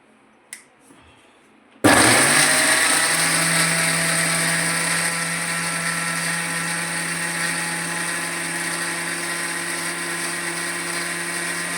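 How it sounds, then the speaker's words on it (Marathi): A mixer grinder whirs loudly as it grinds wet masala with sambar powder and a little water for a catla fish curry. The steady high motor drone starts abruptly after a brief click and runs on without a break, gradually easing slightly. "थोडा त्याला मिक्सरला मी बारीक करून घेईन."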